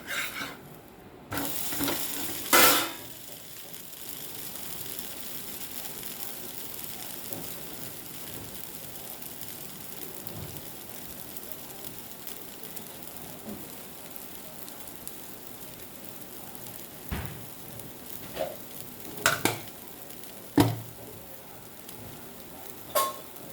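Garlic, curry leaves and tamarind fry in a pan for dosa podi with a soft, continuous sizzle, broken by a few louder clinks and stirring scrapes, steady and fairly quiet throughout.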